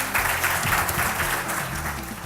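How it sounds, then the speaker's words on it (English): A crowd at a political party gathering on Curaçao applauds as the first speaker is welcomed, giving sustained, dense clapping that is loud and even, with a low hum underneath and no talking. "Ladies and gentlemen, please give a warm hand of applause for our first speaker, Anthony de Lima."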